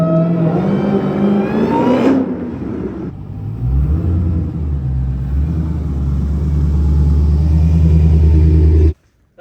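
A Dodge Hellcat with a newly installed engine driving, heard as a loud, close, steady engine rumble with a deep low drone that shifts in pitch as it moves off, cutting out sharply at the end.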